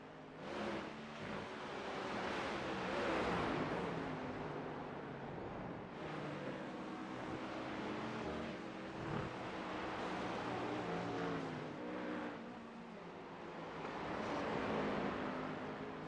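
Porsche race cars at speed on the Roval circuit during an AARS round produce a sustained engine roar that swells and fades as the cars pass, continuous across the whole stretch.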